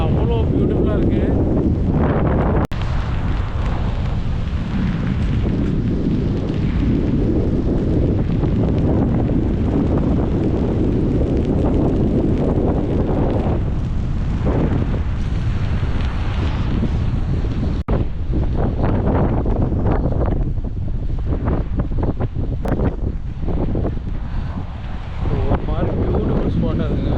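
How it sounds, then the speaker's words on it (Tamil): Strong, cold wind blasts continuously across the microphone at Half Moon Bay beach near San Francisco, a loud roaring rumble with surf mixed in and occasional voices beneath. "சிலு சிலு சிலு சிலுன்னு காற்று அடிக்குது பயங்கரமாக."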